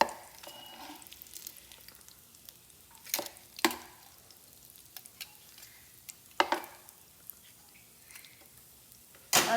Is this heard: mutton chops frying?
yes